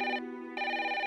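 A telephone rings indoors in two bursts of a bright electronic ring, near and steady, with a short lull between them and no talk.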